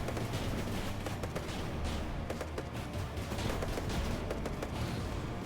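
Grenades from a multi-nade launcher burst over and over in a shooter game, a steady barrage of overlapping blasts and crackling gunfire that keeps up at even loudness throughout.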